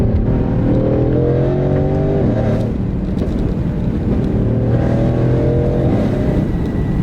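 A tuned Mercedes-AMG GLC63 accelerates hard with a brief wheel spin, its engine note rising loudly through the gears with a shift partway through and sustained roaring pull throughout.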